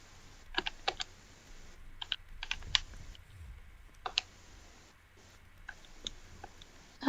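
Quiet, close taps on a calculator keypad, scattered irregular clicks in short bursts with pauses between, alone with no talk.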